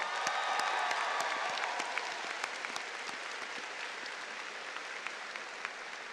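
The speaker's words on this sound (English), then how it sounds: "Can we please give Aiden one more round of applause?" A commencement crowd gives graduate Aiden another round of applause, a broad, sustained clatter of many hands heard from a distance that fades slightly as it continues.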